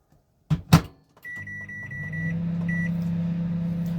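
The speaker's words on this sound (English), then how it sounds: "we're going to put it in the microwave" Two sharp clicks, then a brief electronic beep and a steady low hum as a microwave oven starts running, heating a jacket potato.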